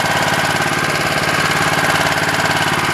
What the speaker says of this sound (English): It's got a 4 horsepower Honda engine on it.